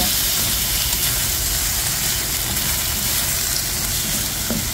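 Beef browns in hot oil in a pan for bulalo, giving a loud, steady, close sizzle and hiss that never lets up, with no talking.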